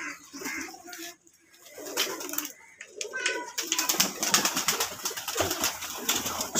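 Breeding and high-flyer pigeons in a loft coo softly while being fed from a tray, with their murmuring joined later by a busy patter of rapid clicks and pecks close by.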